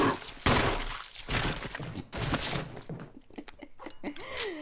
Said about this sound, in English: did I just shoot?